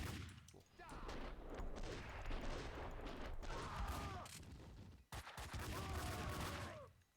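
Rapid gunfire bursts in the video game Max Payne 2, dense overlapping shots filling most of the stretch with a brief break midway, loud and continuous.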